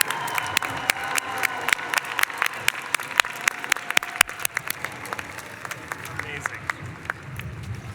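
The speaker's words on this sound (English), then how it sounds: "Ladies and gentlemen, a round of applause for the Master of Laws recipients." Audience applause at a law school diploma ceremony, honoring Master of Laws recipients: dense, steady clapping from a large crowd filling the hall, sustained throughout with sharp individual claps standing out.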